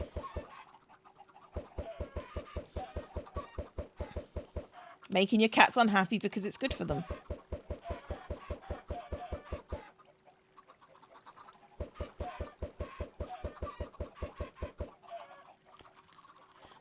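Minecraft chickens cluck and squawk in repeated quick bursts as they are struck, mixed with a rapid run of regular mechanical clicks that stops and restarts, while someone talks over the sounds in the middle.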